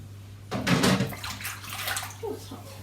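Water runs from a tap onto hands being washed at a kitchen sink while baking brookies, a steady close splashing flow with a low hum underneath and no talk.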